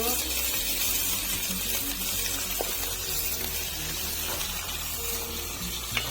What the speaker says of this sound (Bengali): পাতা গরম হয়ে গেছে পেঁয়াজ দিয়ে দিচ্ছি